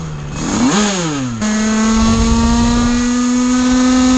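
A 88 Big Racing engine fitted with a PWK 28 carburetor revs up and down sharply, then settles into a loud, steady high-pitched drone close by, with no voices.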